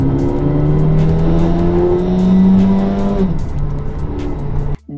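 A Mercedes-AMG A35 sedan (V177) revs hard in comfort mode, the engine note climbing and holding loud and close before dropping off sharply near the end, with no talking.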